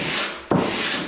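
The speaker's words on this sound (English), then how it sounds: "Now when you're sanding, be careful not to sand the drywall paper too much" Sheet of 150 grit sandpaper wrapped around a wooden board rubs across drywall in a steady, close scratchy hiss, with a single stroke change partway through where the rasping briefly dips and resumes; no voices.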